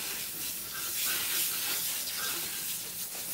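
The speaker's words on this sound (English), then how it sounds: "we're going to go ahead and rinse this off" Water runs steadily from a salon faucet while gray natural hair is rinsed after a tapered cut, a soft continuous hiss with no talking.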